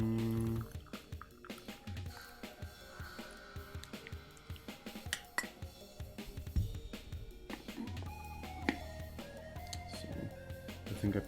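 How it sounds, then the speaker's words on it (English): A cup of tea is poured, with dripping and trickling liquid sounds close by, layered over a busy, continuous background bed throughout. "I think I want to pour a cup of tea."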